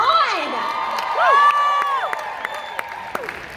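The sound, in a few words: crowd cheering and whooping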